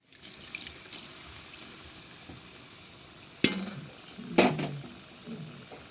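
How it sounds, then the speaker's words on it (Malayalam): Pork intestine (potti) frying in thick masala gives a steady low sizzle, with two sharp scraping stirs of a spoon against the pan midway through and no voices. "ഇതൊന്ന് നല്ലതായിട്ട് നമുക്കൊന്ന് ഫ്രൈ ആക്കിയെടുക്കും"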